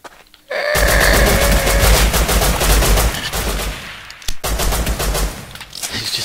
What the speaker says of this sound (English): He's just helplessly shooting.